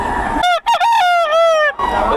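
A rooster at a poultry expo gives one loud, close crow, a single harmonic call of about a second and a half rising and falling over a noisy crowd background.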